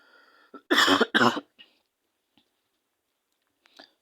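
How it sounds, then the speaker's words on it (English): Two sharp, loud coughs in quick succession, followed by faint breaths and small mouth sounds in a quiet room. "sorry, I'm going to cough."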